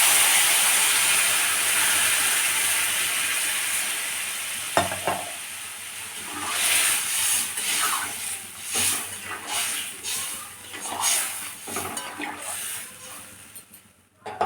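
Spiced curry in a pan with water just added, giving a broad hiss and bubbling simmer with occasional stirring scrapes and clatters, fading toward the end.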